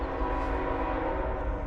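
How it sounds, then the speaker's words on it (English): A train runs steadily in the background, a continuous rumble with a sustained horn-like tone holding throughout, fairly loud and even, with no voices. "Sorry about the train in the background."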